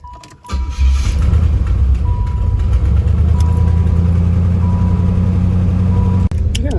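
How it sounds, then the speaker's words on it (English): A worn third-generation Pontiac Firebird engine cranks briefly, then catches and settles into a loud, steady rumbling idle up close. "Let me just get my clapped out car started real quick"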